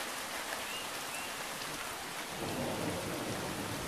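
Heavy storm rain pours steadily, with a deep thunder rumble swelling in about halfway through and lingering to the end, no voices.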